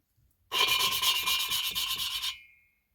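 An engine valve is hand-lapped against its seat in a cylinder head, giving a close, loud, rhythmic gritty rasp of quick back-and-forth twists lasting about two seconds, then fading to silence.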